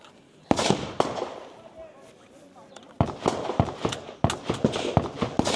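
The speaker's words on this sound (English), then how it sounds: "Once again, 12 shots here." Gunshots ring out during a practical shooting competition stage, with sharp, loud reports coming singly at first and then in a quick irregular string, echoing outdoors, and a voice heard faintly in the background.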